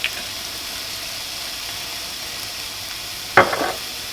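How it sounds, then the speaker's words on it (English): Rice sizzling in a hot pan after a dash of fish sauce, with a steady frying hiss throughout and one sharp scrape of the spoon stirring it near the end. "I better mix that through so it actually covers other bits of rice and doesn't soak in to just one part of it."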